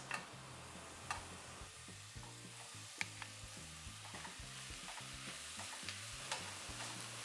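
Minced meat fries in a pan for a chocolate chili con carne, making a faint, steady sizzle with occasional small ticks and clicks over a soft low tonal background.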